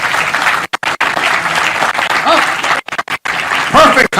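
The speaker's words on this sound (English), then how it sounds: "please, a big round of applause" Audience at an airport concourse groundbreaking ceremony claps loudly for elected officials, dense applause with a few brief gaps and voices mixed in.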